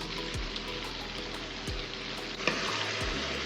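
Brinjal kulambu with drumstick sizzles and bubbles in an open pot on the stove, a steady close crackle with a few low thumps and small clinks and no talk.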